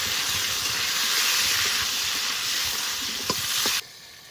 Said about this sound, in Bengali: এবার আলুগুলো ভালো করে ভেজে নেব।